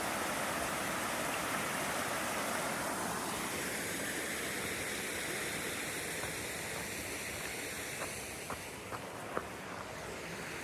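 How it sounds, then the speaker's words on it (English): A creek on the Pacific Crest Trail between Snoqualmie Pass and Waptus Lake, Washington, flows into a large lake as a steady, broad rush of water that stays constant throughout, with a few faint clicks near the end. "Another creek that flows into the big lake over there."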